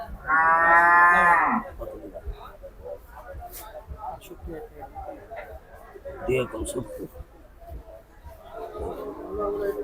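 Small cows at the Gabtoli cattle market give a loud, close moo, then another lower moo later, amid the constant chatter and murmur of a busy crowd.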